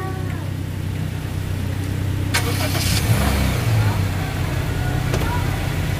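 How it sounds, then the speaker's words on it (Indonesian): A 2020 Honda Jazz RS engine idles steadily while warming up, a constant low rumble heard close by, with a couple of brief clicks and knocks; people talk over it. "Setiap hari mesinnya dipanasin."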